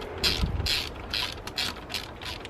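A hand ratchet clicks in quick repeated bursts while tightening a bracket on a car EGR valve, crisp mechanical ticking close by.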